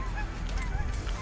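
Canada geese honk in a close, loud overlapping chorus of repeated calls over a steady outdoor background during a waterfowl hunt.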